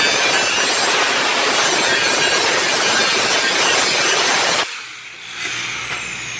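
Coarse file scraping over aluminum in steady back-and-forth strokes, loud and rasping for about four and a half seconds, then cutting off to quiet rustle.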